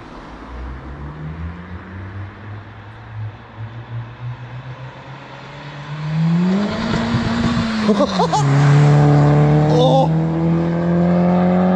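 A small 50cc Honda CL50 Benly motorbike approaches and accelerates past at close range, its engine note rising to a loud, high-revving drone before holding steady, with a brief exclamation heard as it goes by.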